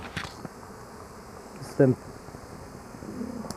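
Honeybees fly around hives at an apiary on an early spring day, a soft continuous buzzing that stays faint in the background, broken by one brief louder sound near the middle.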